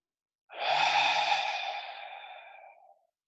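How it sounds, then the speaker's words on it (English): A single deep, breathy exhale during a relaxation session, close and clear, starting abruptly and fading gradually over about two and a half seconds. "we're going to take a few deep exhales."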